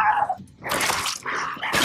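A hostile dog in the prehistoric video game Far Cry Primal snarls and yelps in short, harsh bursts, loud and close, with brief gaps between the outbursts.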